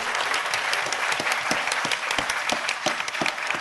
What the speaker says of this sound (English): We can give him a little round of applause.